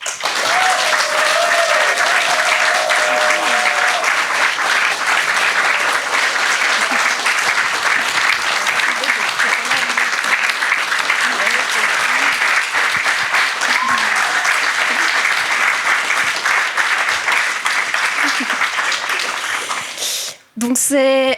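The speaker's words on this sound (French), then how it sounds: "je vous demande d'accueillir sous un tonnerre d'applaudissements Sonam Dreyer-Cornu." Sustained, loud audience applause fills an awards ceremony hall at the Valaistars 2025 prize presentation, steady dense clapping for about twenty seconds before cutting off near the end.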